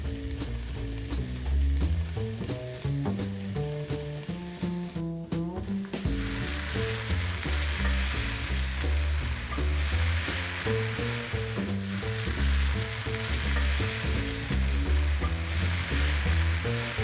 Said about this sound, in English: I'm gonna go ahead and throw in a little bit of oil, and all those scallions gonna go right in here.